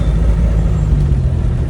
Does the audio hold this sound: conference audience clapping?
no